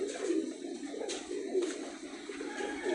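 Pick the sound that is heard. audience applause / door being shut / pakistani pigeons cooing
pakistani pigeons cooing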